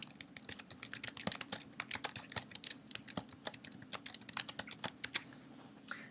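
Rapid, steady keystrokes on a computer keyboard as a username is entered for an Apple sign-in on a Mac, close and alone, with a brief pause near the end.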